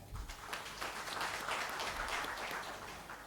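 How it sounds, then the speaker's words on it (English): Audience applause at a banking and finance conference, a dense patter of many hands clapping steadily for a few seconds, moderately loud in a hall. "Give a big clap."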